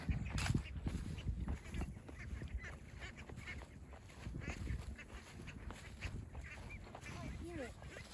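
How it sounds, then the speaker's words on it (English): Khaki Campbell ducks quack and honk in scattered calls outdoors as the flock is herded with pool noodles, fairly faint and spread throughout, with people talking in the background. "That helps herd the ducks."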